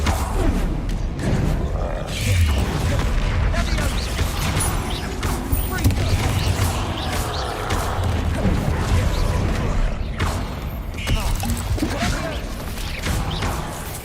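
Bombarda blasting spell explosions in Hogwarts Legacy, a dense clatter of crashing impacts and rumbling bursts under game effects and grunting voices throughout.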